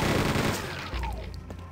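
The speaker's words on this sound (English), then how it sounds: "he had his back turned for long enough to where I could just gun him down with the chain gun with no problem" A chain gun in the video game Quake 2 fires a rapid burst of gunshots that start loud and fade away, with a few faint echoes trailing off.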